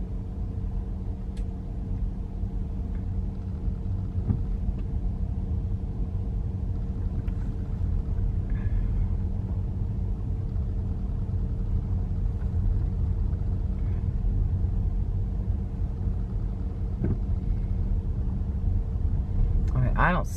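A car interior carries a continuous low engine and road rumble as the vehicle drives slowly past a cemetery, steady throughout with a few faint clicks and no talking.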